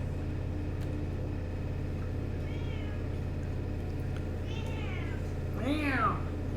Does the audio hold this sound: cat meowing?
yes